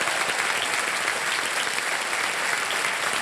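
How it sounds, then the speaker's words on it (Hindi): Sustained, even applause from a studio audience on the KBC game show set, dense clapping filling the whole stretch at a steady level with no talk over it. "जोरदार तालियां बज जाए इनके लिए"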